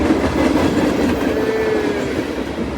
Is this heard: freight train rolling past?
yes